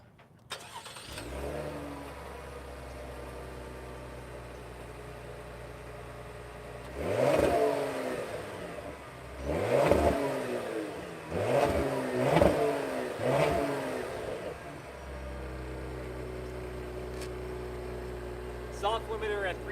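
A 2020 Cadillac CT5 3.0 V6 engine cranks and catches, idles, then revs up sharply several times in quick bursts against a 3,000 RPM soft limiter before settling back to a steady idle.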